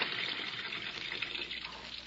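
Water pours steadily into a bathtub being filled halfway, a continuous close rushing hiss that holds level throughout with no voices.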